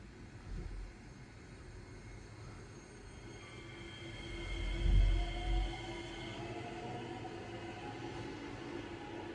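A C751B train runs in a train simulator, a steady rumbling drone with rising whine tones and a heavier surge midway, no voices.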